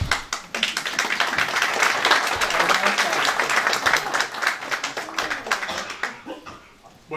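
Audience applause at the 2016 general assembly of the Eskişehir Karachay association, a steady wash of clapping that holds through most of the stretch with some voices mixed in, then thins out near the end.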